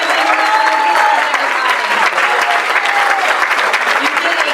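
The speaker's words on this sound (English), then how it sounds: "let's give them a round of applause" Sustained applause from a school audience at a graduation and promotion ceremony, honoring student athletes; dense steady clapping throughout, loud and continuous with a faint crowd murmur.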